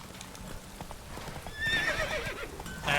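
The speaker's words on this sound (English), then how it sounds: "Adesso sì che è un cavallo che corre." Roach the horse gallops in The Witcher 3 video game, steady rapid hoofbeats building in loudness partway through, with a whinny toward the end.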